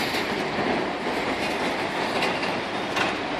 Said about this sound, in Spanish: ahí se va el tranvía, avenida Corut